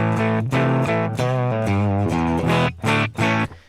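Electric guitar played through an amp simulator voiced like a Fender Bassman, with a thuddy, growly low end, rings out in a few loud distorted chords and notes, alone and close.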